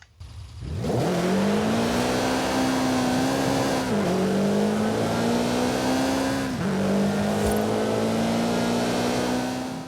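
A Subaru BRZ's 2.4 litre engine in Forza Horizon 5 revs hard and steadily, climbing in pitch with a few brief dips as it shifts, loud and continuous with no talking.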